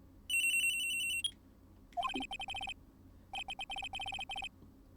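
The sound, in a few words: cell phone ringing in video game Ace Attorney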